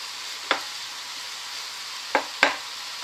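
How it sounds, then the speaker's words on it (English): Lean mince frying and browning in a pan for a bolognese risotto gives a soft, steady sizzle, broken by a few brief clicks and scrapes as it is stirred. "lean mince, and that's going to be in there to fry up until it all browns"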